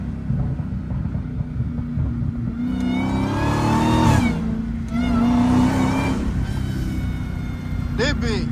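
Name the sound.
Dodge Hellcat car engine revving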